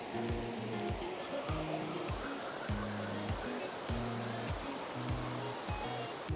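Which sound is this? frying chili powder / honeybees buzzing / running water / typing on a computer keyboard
running water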